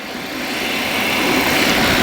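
Light aircraft engine left at a fixed hand-throttle setting near 5,700 rpm during a precision navigation flight, a steady, even drone that swells slightly louder over two seconds with no voices.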